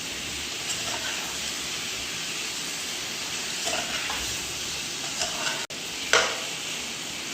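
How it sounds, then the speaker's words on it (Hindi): Chicken leg pieces with lemon juice are stirred in a hot pan, giving a steady, close sizzle with a few scraping and clinking bursts from the utensil against the pan. "मिक्स करेंगे इसको अच्छे तरीके से।"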